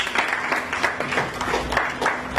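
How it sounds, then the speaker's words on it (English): An audience at a climate and food security launch event in Freetown, Sierra Leone gives a round of applause: uneven bursts of clapping over a faint steady hum. "let's give another round of applause"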